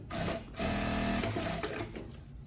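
A Juki-class industrial sewing machine whirs briefly in short mechanical bursts with a quick clicking snip of its automatic thread trimmer, close and fairly loud, no voices.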